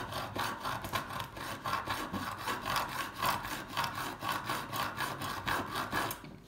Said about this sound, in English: using quite a monstrous saw for that